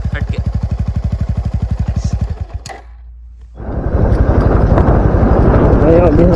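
Suzuki Gixxer SF 250 motorcycle fitted with an aftermarket exhaust of moderate loudness: a steady, rhythmic exhaust putter, a brief near-silent gap, then a louder, rougher roar that carries to the end.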